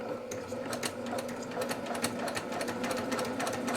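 A machine embroidery unit stitches a Santa table runner, fast regular needle clatter running steadily and close up, with no talk over it.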